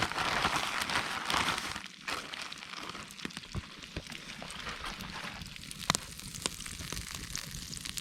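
Battered brook trout fry in a hot pan at a fall Algonquin camp, a steady close sizzle and hiss sprinkled with sharp crackles and pops, louder at first and then settling into an even, bubbling fry.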